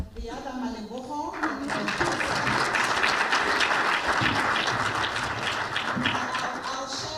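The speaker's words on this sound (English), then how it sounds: "one more time, a round of applause" A crowd at a business dialogue in Botswana bursts into loud, sustained applause, dense clapping that swells quickly and holds steady throughout.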